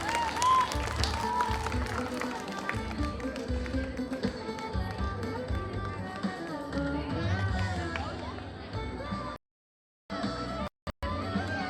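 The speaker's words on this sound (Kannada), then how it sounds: "ಪೋಷಕರು ಚಪ್ಪಾಳೆಯನ್ನು ಜೋರಾಗಿ ನೀಡಬೇಕಾಗಿ ಕೇಳಿಕೊಳ್ಳುತ್ತಿದ್ದೇನೆ." Parents clapping at a school annual day, quick hand claps mixed with a voice on a loudspeaker and children's chatter, ending in a brief dropout near the close.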